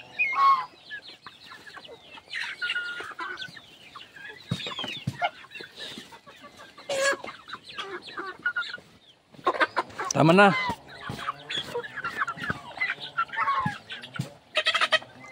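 A flock of turkeys and chickens clucks and squawks continuously while eating hammered corn feed, busy overlapping calls near and far, with a short spoken remark from a person partway through.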